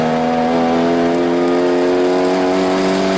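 A 2014 Hyundai Genesis 2.0T runs a lap at Stratotech Park race track, its turbocharged four-cylinder engine roaring loud and close at a sustained, steady pitch throughout.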